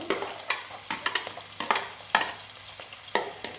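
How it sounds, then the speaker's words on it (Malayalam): Chopped garlic frying in a pan for Kerala-style stingray curry, stirred with sharp, irregular scraping strokes over a soft sizzle, close and moderately loud with no voices. "അടുത്തായിട്ട് നമ്മൾ ഇടാൻ പോകുന്നത് വെളുത്തുള്ളിയില്ലേ, അതൊന്ന് അരിഞ്ഞതാണ് ഇട്ട് കൊടുക്കാൻ പോകുന്നത്."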